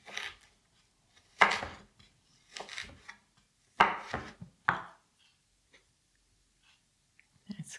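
A knife slices stacked ginger into matchsticks on a board for a simple dahl, a few sharp cutting knocks in uneven clusters with pauses between them, close and clear, with faint talk in the background.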